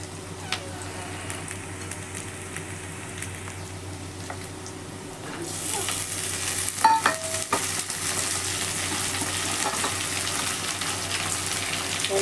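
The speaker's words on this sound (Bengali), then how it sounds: "সবজিগুলো দিয়ে কিছুক্ষণ ধরে ভেজে নেব এইভাবে" Mixed vegetables tossed into a pan of fried onions and green chilli for veg pulao; a soft background turns into a steady frying hiss midway, with occasional scraping of a stirring spoon, fairly quiet and close.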